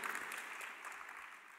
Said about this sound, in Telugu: గట్టిగా చప్పట్లు కొట్టి దేవుని స్తుతిద్దాం.